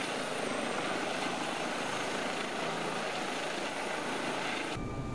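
A Eurocopter EC135 helicopter in the RotorSim flight simulator gives a steady, loud, close rotor and turbine roar, dense and unbroken, with a slight shift in tone near the end and no talking.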